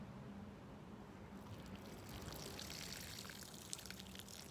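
Water is poured over freshly sown sunflower and pumpkin seeds pressed into garden soil, a steady, soft, continuous trickling splash, faint and alone with no talking.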